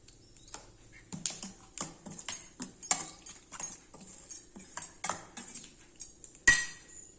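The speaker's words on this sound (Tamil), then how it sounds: "கடுகு, பட்டை மிளகாய், கருவேப்பிலை வந்து தாளிச்சிருக்கேன்." Mustard seeds, dried chilies and curry leaves crackle in hot oil for tempering, giving sharp irregular pops and snaps that come close and distinct against a quiet background.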